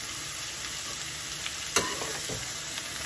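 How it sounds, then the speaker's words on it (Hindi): Onions fry in a pan until golden brown with a quiet, even sizzle, broken by a few soft scrapes and taps as they are stirred. "प्याज को हल्का गोल्डन ब्राउन करेंगे"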